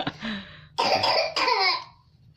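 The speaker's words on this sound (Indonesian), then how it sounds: "Sorry kalau misalkan ada suara batuk because di sini lagi musim batuk." Several harsh coughs from one person close to the mic, a short burst followed by two loud, rough coughing fits during a K-pop album unboxing, then quiet.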